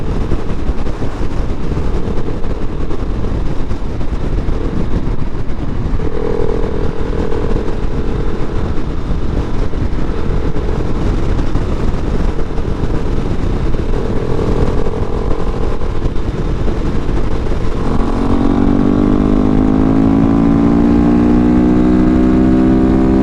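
A 2019 KTM 690 SMCR single-cylinder supermoto engine droning at steady speed on the road under heavy wind buffeting, the tone rising in pitch near the end as the bike accelerates, loud and continuous with no voices.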